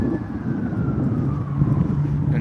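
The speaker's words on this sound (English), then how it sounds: "So that siren's getting closer." Emergency vehicle siren drawing closer in the rural Ozarks, a thin wailing tone sliding steadily over heavy low rumble of wind or road noise, fairly distant and continuous throughout.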